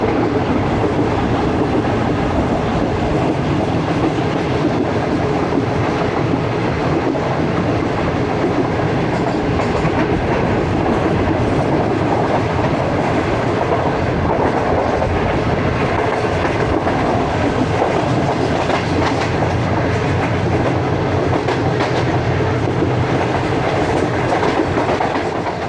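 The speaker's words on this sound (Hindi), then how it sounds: "तो जनाब डाउन में आ रही है train 34 down park business express" The 34 Down Pak Business Express passenger train passing close by on the Rohri–Lahore line, a loud continuous rumble with rhythmic clickety-clack of wheels over rail joints lasting the whole stretch, with no voices.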